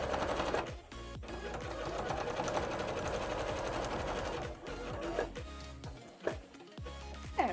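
A sewing machine stitches down the side of a cosplay bodice with a fast, steady mechanical whirring rattle for several seconds, then slows into a few short bursts and stops, close up with no talking.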